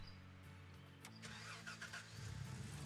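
A car engine in the video game Gold Rush The Game cranks and starts, then settles into a steady mid-pitched idle that grows slightly louder near the end, with no talking.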